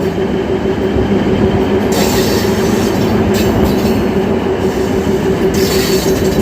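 A Secunderabad–Siddipet train near Gajwel runs onto the main line with a loud, steady rumble of wheels and carriages, continuous and close, with no talk.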